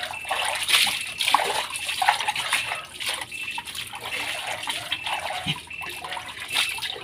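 Laundry is being washed by hand in a basin of water, with continuous sloshing, splashing and trickling as the clothes are worked, fairly close and steady throughout.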